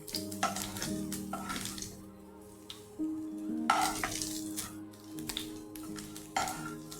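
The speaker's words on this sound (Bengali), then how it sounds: "এভাবে একটু ভেজে নিই, 2 পিঠ একটু ভেজে নিই" Chhena balls frying in oil give a quiet, uneven sizzle, broken by clattering bursts as they are turned and lifted out with a utensil. There are tonal hums in the background.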